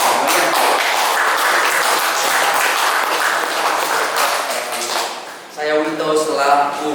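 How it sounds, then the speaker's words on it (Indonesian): Audience at a high school student presentation event bursts into dense, steady applause that carries on for several seconds before thinning out, and a voice then starts speaking over the final claps. "marilah kita berikan tepuk tangan"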